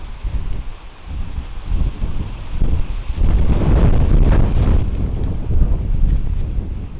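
Strong gusting wind on a forested mountainside, roaring and buffeting the microphone, building in force midway and staying loud and steady with no talk.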